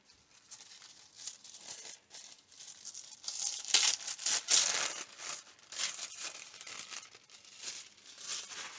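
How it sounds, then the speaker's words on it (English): Pink tissue paper wrapping being torn and crumpled up close, a run of crisp rustles, crinkles and rips rising to louder tearing in the middle, with no speech. "Try not to rip it up too much, and I rip it as I say it anyway."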